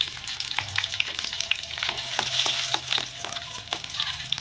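Garlic cloves frying in a little hot oil in a wok, with a steady close sizzle and crackle and scattered pops running throughout.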